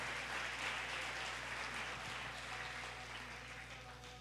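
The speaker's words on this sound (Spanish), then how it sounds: "Dale un aplauso a Dios de los cielos." A church congregation applauds for God during a Spanish-language service, a continuous faint wash of many hands clapping from a distance over a low steady hum, with no voices.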